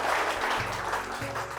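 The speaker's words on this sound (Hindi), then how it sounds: "जोरदार से तालियां" Audience applause for farmers at a village gathering in Udaipur, Gwalior district, a steady dense clapping that continues through the whole short stretch at moderate level.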